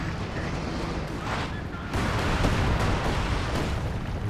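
Artillery barrage in the strategy game Company of Heroes 2, with rumbling shell impacts and booms that swell louder partway through, heard under a commentator's voice.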